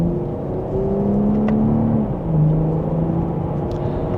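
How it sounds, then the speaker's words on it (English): A 2026 BMW M440i coupe's engine revving up in Sport Plus mode, second gear, under a steady low drone inside the cabin, the pitch climbing then dropping briefly before rising again, moderately loud. "just a minor acceleration, we're up to speed"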